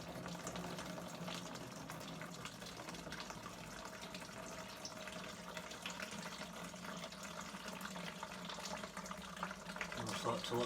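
Homebrew wort draining steadily out of a grain bag after the mash, a continuous close trickle and gush of liquid running without pause, with a faint low hum beneath it.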